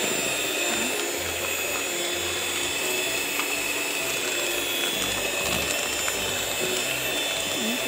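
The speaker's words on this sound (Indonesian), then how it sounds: "Ini kita mixer" Electric mixer beating steamed sponge cake batter at low to medium speed, a steady continuous whir with scraping and rattling against the bowl, close and fairly loud throughout with no talking.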